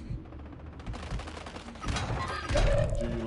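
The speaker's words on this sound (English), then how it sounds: "Flanking here. Under fire." Bursts of rapid gunfire ring out during a video game shootout, sustained fusillades growing louder and denser toward the end, heard up close with no talking.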